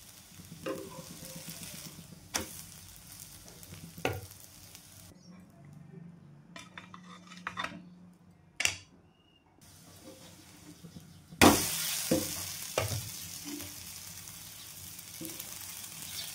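A mixed-lentil dosa sizzling in a little oil on a pan, a soft steady sizzle broken by a few sharp clinks and scrapes of a spatula, and a louder burst of frying near the end.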